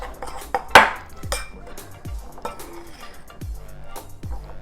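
Peanut butter cookie dough being stirred in a bowl, with repeated clinks and knocks of a utensil against the bowl in an uneven rhythm, one sharper clatter early on.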